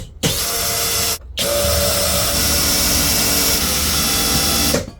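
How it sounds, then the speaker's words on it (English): A power drill whirs loudly and steadily, stopping briefly once before running again for several seconds. "Then I'm gonna drill the holes."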